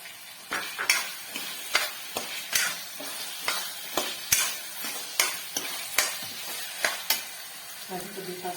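Potatoes fry in a pan for mutter paneer curry while being stirred, a steady sizzle broken by regular scraping strokes roughly once a second, close and moderately quiet, with no voices.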